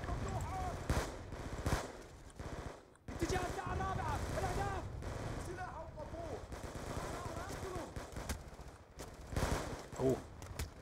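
Bursts of automatic gunfire in Call of Duty: Black Ops 2, with rattling volleys and scattered shots that stop briefly and then resume, while voices talk over parts of the fighting.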